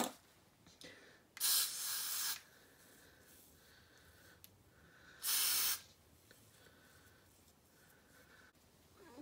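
Two short hissing bursts of hair spray, a couple of seconds apart, over quiet background noise.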